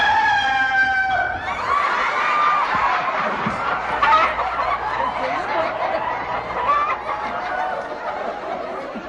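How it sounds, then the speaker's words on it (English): A rooster and hen cluck and cackle together at a staged chicken wedding on a 1998 television broadcast, their calls mixed with chuckling and laughter from people nearby, close and lively throughout. "For as much as Harry the Rooster and Pauline the Hen have consented together in chicken-type wedlock"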